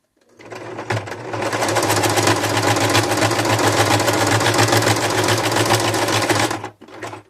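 A sewing machine runs fast, stitching a seam, producing a loud, close, continuous rhythmic whir for about six seconds before stopping abruptly, with no talking over it.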